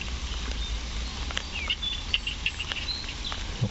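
Light rain patters steadily against a soft background hiss, while scattered bird chirps and high tweets ring out on top.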